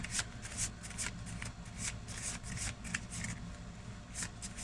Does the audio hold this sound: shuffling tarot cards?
yes